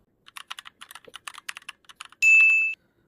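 Rapid, close clatter of keys on a computer keyboard as an email address is typed, a steady run of light clicks ending in a short electronic chime.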